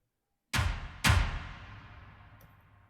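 Heavy hit sample from a sample pack for Afro house, two booming impacts about half a second apart, the second ringing out with a long, deep decaying tail.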